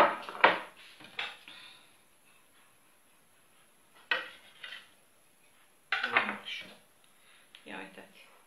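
Metal cutlery clinking and scraping on a plate as a knife cuts through sweet pancakes, some filled with banana and some made with rice flour, in three short clusters of close taps with a voice speaking between them.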